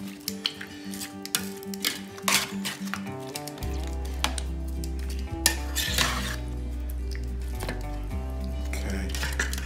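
A spoon stirs and mixes curry ingredients in a metal pot, giving repeated close clanks and scrapes in an uneven rhythm over a low background hum, with no talking.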